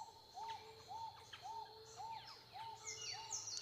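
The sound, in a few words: birdsong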